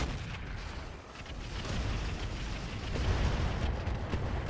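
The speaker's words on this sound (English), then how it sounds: "we're going to drop artillery on that catapult." Artillery pounds a Catapult mech in the RogueTech video game, a dense rumbling roar of overlapping booms and blasts that holds steady and loud throughout.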